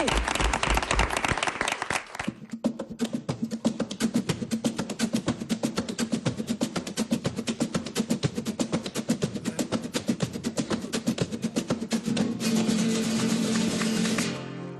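A studio audience applauds and claps for the performers on a live TV broadcast. Loud, dense clapping gives way to steady rhythmic hand-clapping along with music, then swells again near the end.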